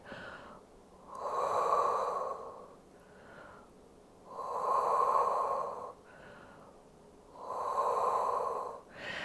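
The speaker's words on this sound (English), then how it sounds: "And then we do 3 deep breaths here." Three slow, deep breaths taken during a standing Pilates stretch for painful knees, each a long, soft, airy inhale-exhale swell, evenly spaced and close with nothing else around them.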